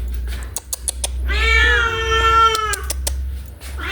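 A cat meows loudly and up close while being fed leftover food, one long drawn-out wavering meow framed by sharp clattering taps and steady low background hum.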